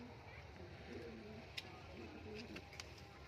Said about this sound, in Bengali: সব হাই ফ্লাইয়ের গিরিবাজ রয়েছে এগুলো